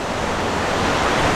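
Wind and splashing fountains outdoors in Doha make a steady, dense broadband rush, loud and close, with no voices.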